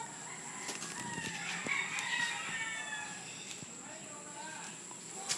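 Chickens clucking and a rooster crowing at a distance, mixed with outdoor background noise and faint voices.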